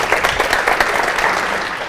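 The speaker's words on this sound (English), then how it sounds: "Let's give him a round of applause." An audience at a student pitch competition gives a speaker a round of applause, a dense and fairly loud burst of clapping that holds steady and then eases slightly toward the end.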